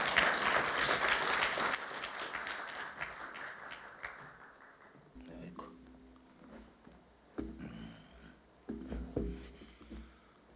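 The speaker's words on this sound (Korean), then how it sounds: "양해해 주시면 박수로 좀 하겠습니다" An audience claps for a speaker at an academic lecture colloquium. A dense burst of applause fills the first two seconds, then thins out and fades into a quiet hall with scattered soft knocks and rustles.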